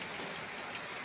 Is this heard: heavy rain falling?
yes